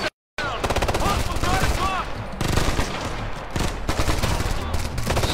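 Rapid automatic gunfire in the video game Ghost Recon Future Soldier: dense, loud, sustained bursts of shots after a brief silent gap at the start, continuing almost without a break.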